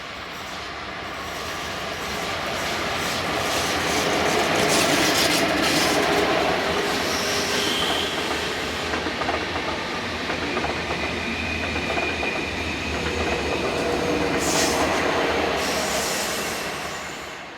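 A pair of SBB Lion electric locomotives hauls the 0532 Romanshorn–Zürich train round a curve, wheels rumbling loudly with flange squeal, rising to a sustained roar and fading as it passes.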